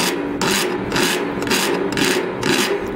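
A hand file rasping close up in steady back-and-forth strokes, about five rough scraping passes, loud and alone.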